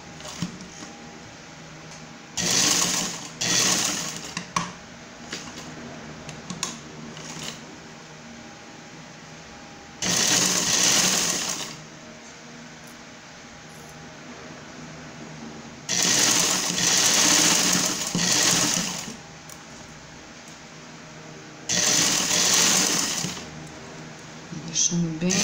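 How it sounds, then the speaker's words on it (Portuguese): A sewing machine stitches a paper filter holder in four loud, whirring bursts of a few seconds each, separated by quieter pauses with faint handling sounds. "Vou costurar aqui, vou deixar essa abertura aqui"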